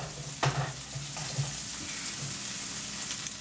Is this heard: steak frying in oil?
yes